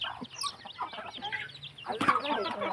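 Chickens on a rural farm in Thailand's Isan region cluck in a busy, steady stream of short calls at moderate distance, with a louder burst of squawking near the end.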